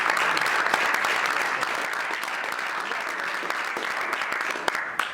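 A large crowd applauds steadily, dense clapping that holds for several seconds before easing slightly near the end.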